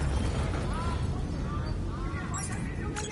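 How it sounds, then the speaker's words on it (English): Explosions in the Call of Duty Black Ops 3 campaign, deep rumbling blasts under dense combat noise, with a character's voice over the top. "Hendricks, we have multiple explosions across the facility."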